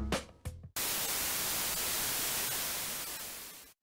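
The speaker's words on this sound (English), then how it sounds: "White noise is a random signal having equal intensity across the frequency range." Steady, loud broadband white noise hisses evenly for about three seconds after a couple of short bursts, then cuts off abruptly.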